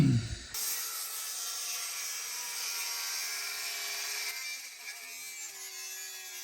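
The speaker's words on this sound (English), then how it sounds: "It is time to trim the back end off of the upper shelf." Power saw trimming the back end off a walnut live-edge kitchen shelf, a continuous close, bright whining cut through the wood after a brief thump, tapering slightly toward the end.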